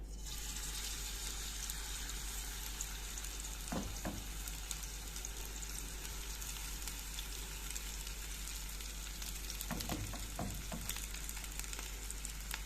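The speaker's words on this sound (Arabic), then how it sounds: "هنضيف البصل" Onions sizzle faintly in a pot of Egyptian koshari, a steady low hiss of frying with a couple of brief clinks or stirring sounds, quiet and without speech.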